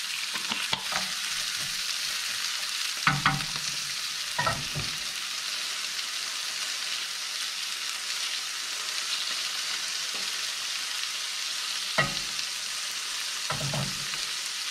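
Vegetables, fresh chili and chili flakes sizzle in a frying pan, a steady close crackle broken by occasional scrapes and clatters from stirring, with no one speaking.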